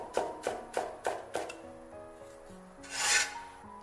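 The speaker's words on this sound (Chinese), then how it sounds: "拍好之后给它切成蒜末" A knife chops smashed garlic cloves into mince on a wooden board for a double-scallion braised tofu dish, five crisp rhythmic strikes followed by scraping and rasping of the blade gathering the garlic, close and alone.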